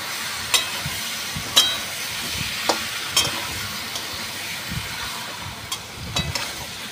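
Chicken meat with salt sautéed and stirred in a pan, an even close sizzle with periodic sharp spatula clicks and scrapes every second or so, no one speaking.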